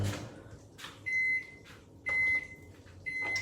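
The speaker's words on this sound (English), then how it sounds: "the microwave just went off" A microwave oven in a home kitchen beeps three times when it finishes, each short, clear tone about a second apart, loud and close over quiet room noise.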